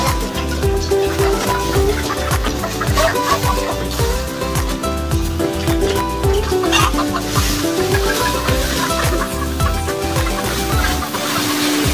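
Chickens clucking together in a coop bedded with rice hull, a dense, steady chorus of overlapping calls that stays loud and close throughout.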